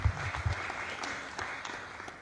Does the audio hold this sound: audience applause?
yes